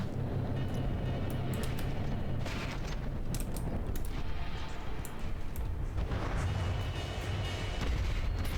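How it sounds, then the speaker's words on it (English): Mortars fire during a From the Depths battleship battle, with repeated booming thumps and crackling blasts layered over a steady rumble of naval combat, continuous and fairly distant. "There we got some mortars popping in there too."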